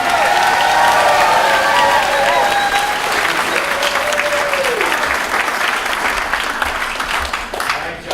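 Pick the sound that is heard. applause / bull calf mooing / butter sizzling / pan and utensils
applause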